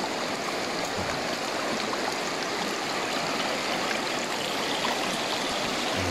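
A stream flows at the old Coto mines with a steady, dense rush and trickle, close and continuous with no voices.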